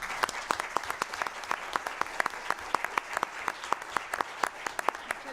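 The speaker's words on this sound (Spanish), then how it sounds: "Le damos un aplauso," An audience at an academic panel on territorial justice applauds three panelists, a steady wash of many hands clapping with sharp individual claps standing out, moderately loud and continuous with little talk.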